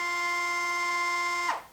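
Loosening the laces of a Nike Adapt BB self-lacing shoe, its motor gives a steady, close whine for about a second and a half before spinning down sharply into quiet.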